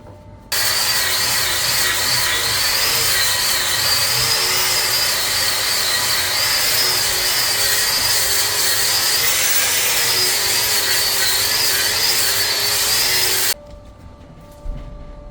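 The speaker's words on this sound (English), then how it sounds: "This is a Scotch-Brite XT Pro Cleaner Strip disc." A 3M Scotch-Brite XT Pro Clean and Strip disc on a power tool grinds paint, rust and mill scale off a rusty leaking metal pipe, a loud, steady abrasive whine that runs continuously for about thirteen seconds before cutting off.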